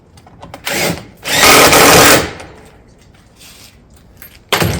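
A power driver sends screws down through a mission clay tile cap into 2x2 battens on a barrel vault roof rake. Two loud close bursts, a short one then a longer whir, are followed by quiet handling clatter and the start of another run.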